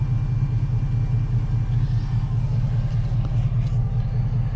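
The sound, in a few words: truck engine running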